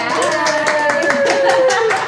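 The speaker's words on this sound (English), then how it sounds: "We like to clap for everyone." Studio audience applause welcoming a guest onto a history podcast, a steady wash of many hands clapping at close range for about two seconds, with a sustained tone running beneath it.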